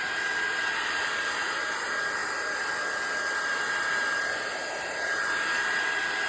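A hair dryer blows steadily and loudly throughout, drying the background layer on a die-cut art junk journal page, with a constant whooshing roar and no talking.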